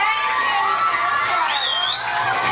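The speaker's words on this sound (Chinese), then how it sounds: "色彩生动的金鱼风筝成品让小朋友惊呼连连" Children exclaim and cheer over a goldfish kite with a painted fabric face at a kite festival in Brisbane, Australia. Their voices form a steady, excited crowd din throughout, with a brief high whistle-like squeal partway through.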